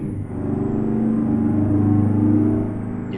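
International 9800 CabOver truck in American Truck Simulator, its engine droning and revving steadily with layered harmonics, loud and continuous for about three seconds with no talk.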